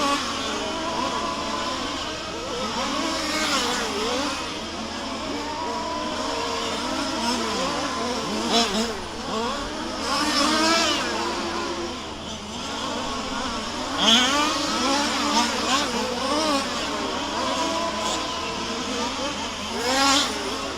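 Race car engines, among them a black and white Honda Civic, whine and surge continuously at the Warm Springs track during the FG Supply GP main event, a dense layered drone under near-constant commentary.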